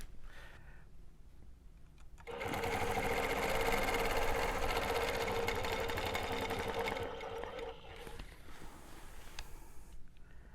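A longarm quilting machine stitches ruler-guided continuous curves. It starts after a quieter stretch, then runs as a loud, steady, rapid mechanical whir that eases off toward the end.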